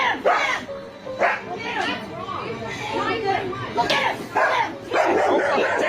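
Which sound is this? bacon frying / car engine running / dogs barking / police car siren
dogs barking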